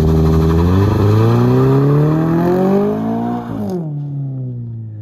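A Toyota GR86 roars loud and close through a burnout, its engine note climbing steadily for about three seconds before cutting off and dropping to a lower idle.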